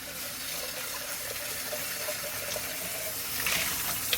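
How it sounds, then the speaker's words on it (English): Water from a tap runs steadily as the inside of a chicken feeder is rinsed, giving a constant close splashing hiss with faint gurgles and no voices. "then you're going to have to rinse it inside"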